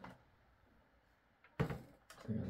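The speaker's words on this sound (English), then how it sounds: "Open my doors." Plastic clicks and clatter as the doors of a toy Republic Gunship dropship are pushed open, two short bursts, close and fairly loud after a quiet stretch.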